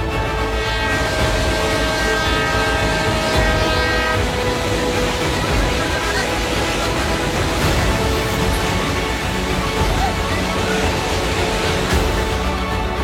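A train rumbles steadily along the tracks of the Chennai–Rameswaram railway line in India, with a loud horn sounding tonally over the continuous rolling noise.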